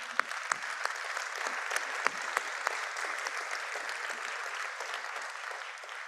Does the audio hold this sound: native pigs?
no